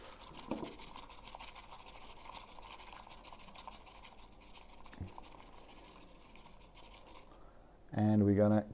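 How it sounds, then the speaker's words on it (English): A bamboo whisk froths matcha in about 70 ml of water, a soft, steady scratchy swishing close by, with a voice briefly heard near the end. "And then we're gonna whisk this with the same whisk."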